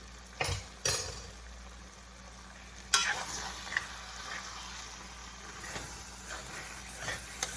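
Butter sizzling in a pan of Brussels sprouts with spinach and cauliflower rice, a soft steady fry under occasional stirring scrapes and a few sharp utensil knocks, no talk.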